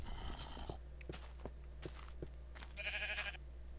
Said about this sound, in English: That was the loudest sheep ever.